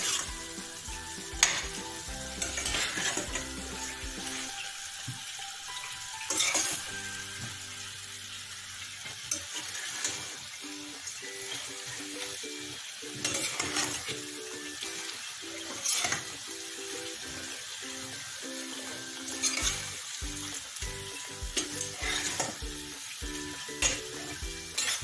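Beef frying with salt in a pan, a steady close sizzle with repeated scraping stirs of a spatula throughout.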